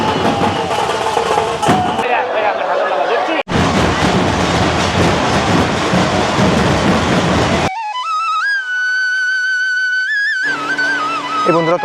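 A train at Bongaon station, its rolling rumble and clatter loud and close through the first half, then giving way to a sustained tonal whine; voices are heard talking throughout.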